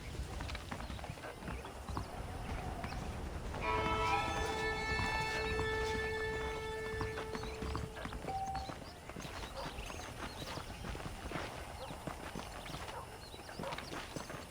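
Rhythmic clip-clop of horse hooves trotting steadily in the video game Red Dead Redemption, with a brief whinny-like tone partway through over a constant background bed.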